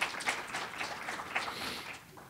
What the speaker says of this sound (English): Can we all give a big round of applause for everyone?